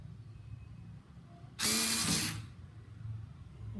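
A Black and Decker KC4815 cordless screwdriver whirs in one short, close burst of about a second while backing out a screw, set against quiet room noise.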